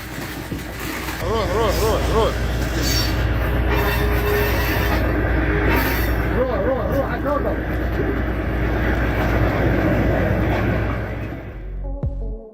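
A train running during India's monsoon season, a loud continuous rumble of rolling cars with squealing wheel tones and rattling, steady throughout before cutting off abruptly near the end.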